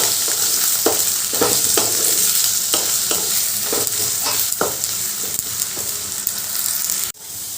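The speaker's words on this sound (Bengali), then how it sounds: "এবার আলুগুলো ভালো করে ভেজে নেবো" Small diced potato pieces frying in hot oil, a continuous close sizzle broken by regular stirring scrapes, with no talking.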